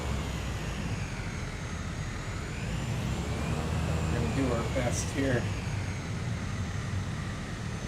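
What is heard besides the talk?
airplane engine turning, from video game Microsoft Flight Simulator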